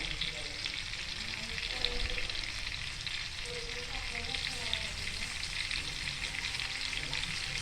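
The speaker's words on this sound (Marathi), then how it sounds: "ते आता आपण फ्राय करून घेऊया. त्याला वेळ लागणार. एकदम एक कमी गॅसवर ठेवलं." Chicken pieces fry on a tawa over low gas, giving a steady, close hiss and crackle of sizzling oil that holds at an even level throughout, with occasional faint stirring scrapes and no talking.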